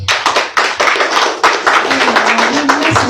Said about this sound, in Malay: satu tepukan untuk anda semua